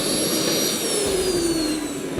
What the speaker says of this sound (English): That was until Ali tried to start the engines again